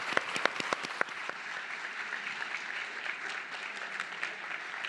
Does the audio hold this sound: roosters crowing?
no